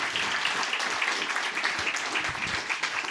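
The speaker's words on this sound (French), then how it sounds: "on peut lui donner une bonne main d'applaudissement" An audience at a talk on cognitive biases and self-esteem gives sustained applause, a dense and even patter of many hands at moderate loudness throughout.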